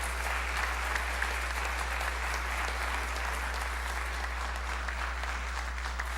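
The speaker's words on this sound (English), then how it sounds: "Let's applaud Santa Monica." An audience at a town hall meeting in Santa Monica breaks into steady, even applause that holds at a constant level throughout, with no voices standing out over the clapping.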